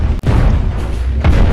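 Spaceship cannons fire in the video game Cosmoteer, producing a dense, rumbling barrage of booms with two sharper hits standing out about a second apart.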